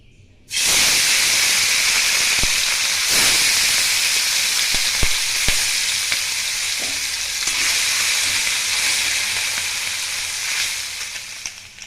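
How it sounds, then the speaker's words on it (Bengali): Small mourala fish hit hot mustard oil in a kadai over high gas, bursting into a loud, sustained sizzle and hiss with occasional sharp pops and crackles, close and without talk. "মাছগুলো এবার ভেজে নেব।"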